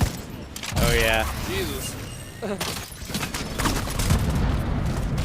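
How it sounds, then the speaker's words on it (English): Grenade blasts and gunfire in the video game The Division 2, loud booming bursts and rapid shots mixed with game effects, while someone talks and exclaims over the action. "Oh, grenade on him, grenade on him. Toss a grenade, guys."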